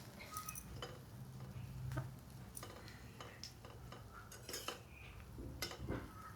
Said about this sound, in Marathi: पुन्हा एकदा मी त्याला हलवून घेते.